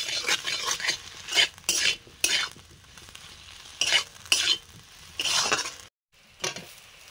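Fried potatoes with salt get stirred together with poppy seed paste in a pan, heard as bursts of scraping and clinking between quiet pauses over a light sizzle.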